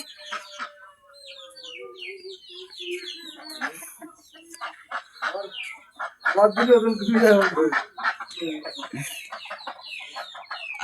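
Several chickens cluck and squawk close by, their calls overlapping in uneven bursts, with a few higher chirps mixed in.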